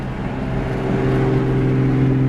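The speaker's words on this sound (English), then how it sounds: "now we're gonna do the exhaust cutoff" A Lexus IS300 in fourth gear accelerating under 3,000 RPM with its exhaust cutoff open, giving a steady, close, droning engine and exhaust tone that builds slightly in loudness, with no talking.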